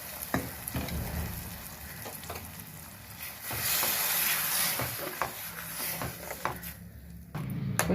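Tomato puree being added to a hot pan for tomato rasam, sizzling and frying with stirring scrapes; a steady hiss that swells midway and fades toward the end, close and moderately loud, no talk.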